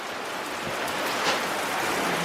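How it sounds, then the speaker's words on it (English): Torrential rain pours down just outside a garage, a dense, unbroken roaring wash of noise at a steady, fairly loud level with no voices. "it's literally torrential rain"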